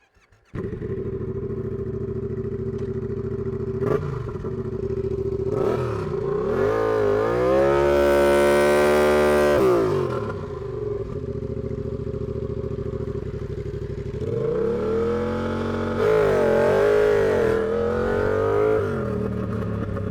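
A turbocharged Yamaha MT-07 motorcycle at full throttle, revving hard through rising gear sweeps with a brief pause between pulls, loud and close, with no talking.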